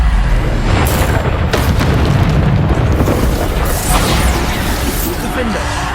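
Booming Bombarda spell explosions in the video game Hogwarts Legacy during a duel, heavy low rumbles and crashing bursts filling the whole stretch at loud, close level with dense debris-like noise.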